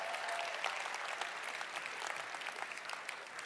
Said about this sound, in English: Please give another round of applause for Reg and Andreas